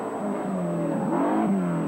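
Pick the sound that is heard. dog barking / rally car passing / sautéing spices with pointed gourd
rally car passing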